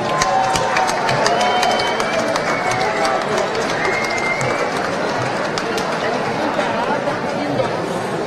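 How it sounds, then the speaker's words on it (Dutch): At a Dutch carnival prince installation, a festive indoor crowd applauds and cheers steadily, dense clapping mixed with chatter and whoops that stays loud throughout. "Hem onder een applaus."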